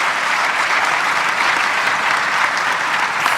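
Steady, dense audience applause for a conference plenary panel fills the room at an even level throughout, with no voices over it.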